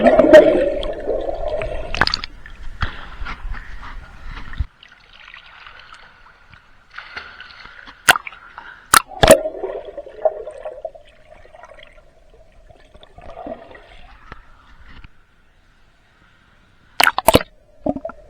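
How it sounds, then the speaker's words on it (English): Someone swims in a warm swimming pool: close, irregular water splashes and sloshing strokes come in bursts with quieter gaps between them, and sharp clicks and knocks break in now and then. "so let's take a swim in it"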